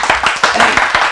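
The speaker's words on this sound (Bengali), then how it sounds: "তালি লাগা, তালি তালি।" Hands clapping in a steady rhythm of about seven sharp claps in just over a second, near and loud, inside a Bengali radio drama scene with no talk over it.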